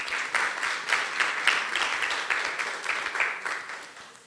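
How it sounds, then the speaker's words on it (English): Steady round of applause for elected government ministers at a youth forum in Anguilla, a modest crowd clapping continuously at moderate loudness, a few sharper claps standing out, no voices. "Can we give the elected members another round of applause"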